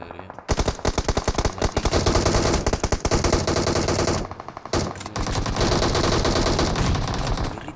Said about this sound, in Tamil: மேலே டிகே வந்து நல்லா பேக் ஃபயர் கொடுக்குறாரு.